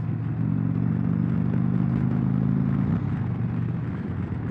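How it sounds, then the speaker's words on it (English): An Indian Chieftain Dark Horse motorcycle with a 116 engine cruises at highway speed: a steady, low engine drone hums along at a constant pace with wind and road rush, the motor holding an even note throughout. "this bike purrs right along"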